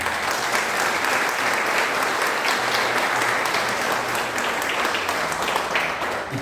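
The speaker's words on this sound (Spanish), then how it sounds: "Yo le doy un aplauso a Jesús por eso." A church congregation claps steadily through a Christmas service, with dense, sustained applause filling the room from start to finish and no voices rising above it.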